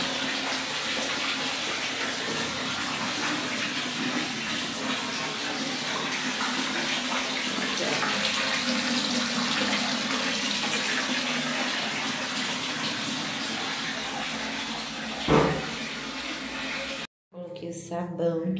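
Water pours steadily from a tap into a hotel bathtub, a continuous broadband rush under a voice speaking over it, with a brief clunk near the end before the flow cuts out.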